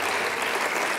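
In a parliament chamber, applause from the members sounds as a dense, steady wash of many hands clapping together, filling the room evenly without pause.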